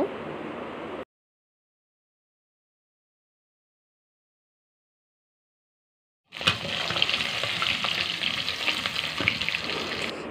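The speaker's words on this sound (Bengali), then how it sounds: "প্রথমে ইলিশ মাছগুলো লবণ হলুদ মাখিয়ে ভেজে নেব" Hilsa fish rubbed with salt and turmeric frying in hot oil: a short burst of sizzling cuts off into silence, then a loud, dense, crackling sizzle returns and holds steadily to the end.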